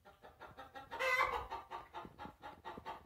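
A rooster near a barn stall full of compacted manure gives a loud, drawn-out call in the middle, with softer clucking and fowl sounds pulsing before and after it.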